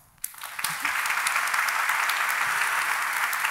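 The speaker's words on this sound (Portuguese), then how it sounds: "Bate palmas" An audience breaks into applause during a talk, starting abruptly and quickly swelling into sustained, dense clapping that stays loud and even to the end.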